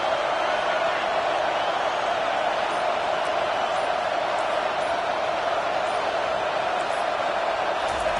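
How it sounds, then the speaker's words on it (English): A huge stadium crowd roars at a college football game in NCAA 25, a dense, steady wall of cheering that never lets up, with a commentator's voice faintly underneath. "Listen to this crowd just shaking the girders of this place"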